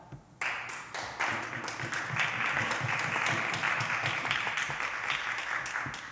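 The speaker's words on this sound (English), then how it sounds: "thank you to the caucus for the applause" Applause from a legislative caucus in a provincial chamber, starting abruptly after a brief pause and building into steady, dense clapping that continues to the end.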